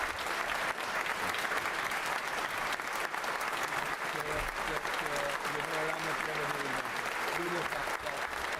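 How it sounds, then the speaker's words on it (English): Sustained applause fills the House of Commons chamber after a prime minister's final Prime Minister's Questions, dense and continuous throughout, with a voice briefly speaking over it partway through. "I'm sorry we're still clapping."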